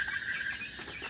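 Tiger breed chicken chicks on a farm, a small batch of about a hundred, giving soft continuous peeping and clucking calls close by for about a second.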